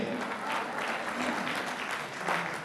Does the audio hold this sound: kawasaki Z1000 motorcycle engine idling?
no